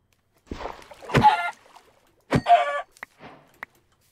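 A Minecraft chicken clucking in two close, loud bursts of squawking calls, followed by a few short, softer clucks and clicks with nothing else underneath.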